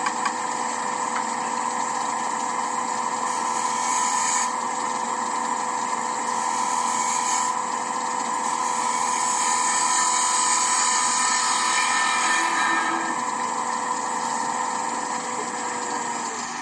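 Mahogany turning on a lathe with a 3/8 spindle gouge, a continuous whining motor hum with a steady cutting hiss that shifts in tone as the tool engages, close and unbroken for the whole stretch.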